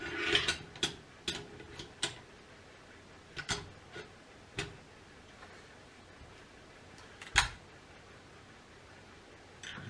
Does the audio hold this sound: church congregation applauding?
no